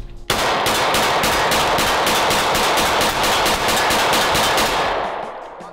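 A rapid string of about twenty pistol shots from a Sig Sauer or Canik handgun rings out at a steady, fast cadence, loud and close, ending in a fading echo.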